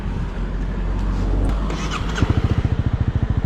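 A motorcycle stopped by a traffic officer being started, a low rumbling idle that catches into a rapid, evenly pulsing engine beat, close and fairly loud.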